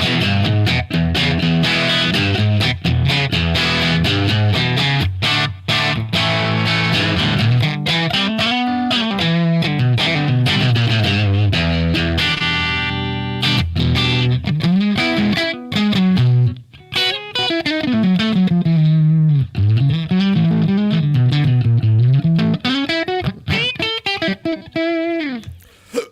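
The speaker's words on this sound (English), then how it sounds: "I thought this would be a good guitar to show off the cleaner side of this amp" A Fender Telecaster electric guitar plays through a PROTO2 amp on its cleanest setting, with the volume raised for a touch of tube grit and a slapback echo. The playing is loud and continuous with ringing chords and melodic runs, and no one talks.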